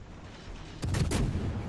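The forward turret guns of the cruiser Atlanta fire in World of Warships: after a quiet hum, two sharp, booming blasts land close together, loud and near, followed by a lingering rumble.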